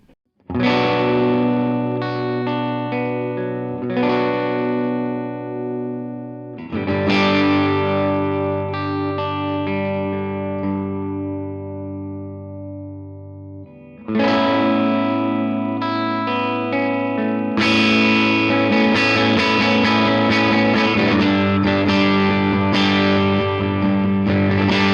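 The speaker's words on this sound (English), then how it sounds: "you can definitely hear the amp starting to drive" An electric guitar on its middle pickup plays through a Tone King Gremlin amp pushed into light overdrive, with strummed chords and ringing notes at steady volume, dense and gritty, with no voices.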